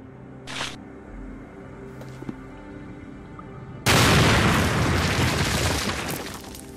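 Bomb detonating in the video game Sherlock Holmes: The Awakened Remastered, a sudden loud blast partway through that swells into a long roaring rumble and slowly fades, preceded by quieter ambient sounds and a brief whoosh.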